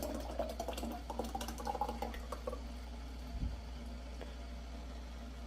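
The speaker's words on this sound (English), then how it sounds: "I am just going to pour these, pour this broth that's left over" Leftover broth is poured into pint glass jars, a close gurgling trickle with small splashes and drips over a low steady hum, with no talk.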